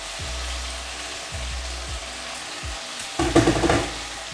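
Garlic sizzling in a hot pan while being stirred, with low rhythmic scraping strokes and then a louder burst of frying toward the end; no one speaks.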